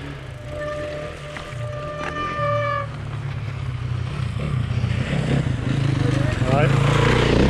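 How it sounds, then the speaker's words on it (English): A motorbike engine drones past on a wet Lake District forest trail, growing louder toward the end, while people talk over it and a high tone beeps briefly early on. "Oh, there's a motorbike."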